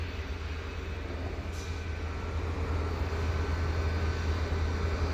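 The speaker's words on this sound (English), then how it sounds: "the same train coming back through here at Dorval" A CP local freight train rumbles past close by at Dorval, Montreal, with a steady, heavy roar of wheels and cars that continues throughout. No voices.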